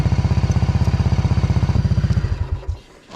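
An old Honda ATC three-wheeler engine runs close up with a fast, steady put-put pulse, then it stumbles and fades out near the end.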